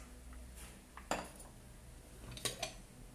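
Bowls, one of them Pyrex, are handled on a hard surface, giving two or three sharp, close clinks and knocks of glass and ceramic against a quiet room background.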